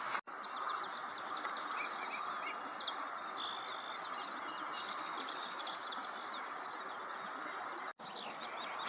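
An orange-crowned warbler sings in a wildlife refuge at sunset, its thin high trills repeating steadily over a constant hiss of background noise, fairly faint and distant with no voices.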